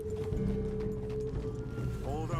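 Horse hooves clip-clopping in Red Dead Redemption 2, quick rhythmic steps under a voice speaking over them, with faint musical tones in the background.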